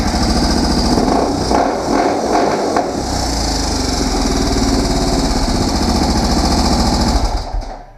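A rebuilt 1996 Suzuki DR650 single-cylinder motorcycle engine runs loud and close, a rough rapid thumping idle with a few throttle blips early on, before cutting out at the end.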